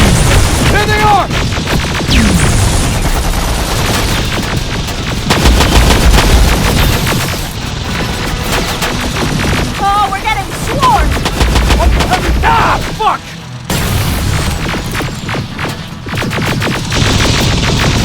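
Heavy gunfire and machine-gun bursts rattle through a Terminator Genisys shooter battle, loud and nearly continuous across the whole stretch, with shouted voices breaking in over the shooting.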